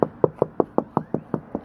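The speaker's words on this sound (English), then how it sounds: "You don't want to hit too hard and crack your windshield anymore, but just some light taps like this" Light knuckle taps on a car windshield during DIY chip and crack repair: nine even, crisp knocks in quick succession, close and alone.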